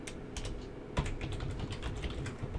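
Quick, uneven keystrokes clatter on a computer keyboard while PHP code is being written, a close and steady run of clicks with one sharper tap, and nobody speaks.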